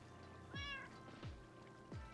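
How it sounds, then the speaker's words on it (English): A cat in Minecraft gives three short meows, evenly spaced and fairly faint, each a quick falling cry over a quiet background. "I think that was a sign of approval from one of the cats"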